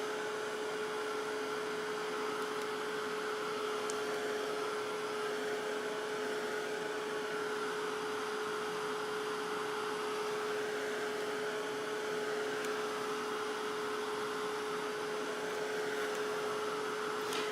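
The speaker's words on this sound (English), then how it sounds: "you can use a heat gun or heat tool and dry it a little bit" A heat gun drying paper sprayed with Glimmer Mists gives a steady, unbroken blowing roar with a faint motor whine underneath. It runs alone and at an even level for the whole stretch.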